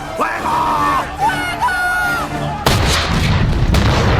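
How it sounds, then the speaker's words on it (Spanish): Tonal whistling and shouted voices give way to a sudden loud, sustained roar of booming blasts, heavy film cannon fire from Pirates of the Caribbean rumbling continuously. "la escena también nos aporta una buena escena de cañonazos"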